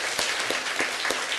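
A church congregation clapping to welcome a member, a dense, steady burst of many hands filling the room for a moment.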